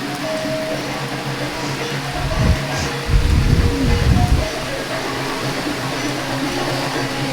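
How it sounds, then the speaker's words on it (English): Rain falls outdoors above a fire pit at a humid, foggy lodge at night, a steady hiss with a louder burst of heavier drops near the middle. "It's obviously not lit because it's raining."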